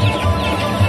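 Cartoon chickens clucking loudly and close, a quick run of throaty, repeated clucks with a brief swell near the end.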